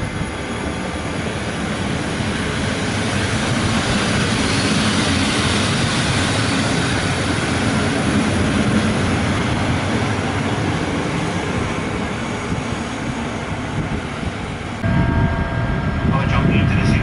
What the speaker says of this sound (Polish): Pociąg Intercity RP ze stacji Warszawa.